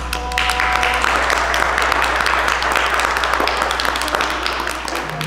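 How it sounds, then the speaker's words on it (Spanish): An audience applauds Esmeralda after a folk dance presentation at a theatre, steady dense clapping filling the whole stretch at moderate loudness with no talk over it. "¿Aplausos a Esmeralda?"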